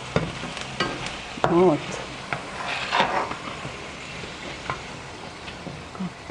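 Carrots and potatoes fry in a pan with a steady sizzle, occasional utensil taps and stirring scrapes; a voice briefly speaks.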